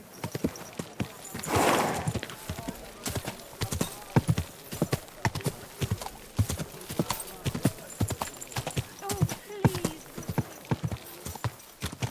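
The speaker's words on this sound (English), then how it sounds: "Easy, good horse." Horse hooves clip-clop in a steady, brisk rhythm close by in the video game Kingdom Come: Deliverance II, sharp knocks repeating throughout, with a horse's brief whinny early on.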